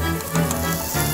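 Shallots sizzle in butter in a saucepan, a close, steady crackling fry that runs continuously through the short moment with no talk.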